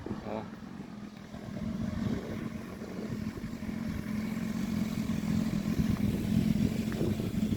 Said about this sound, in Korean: 오토바이가 2대네요.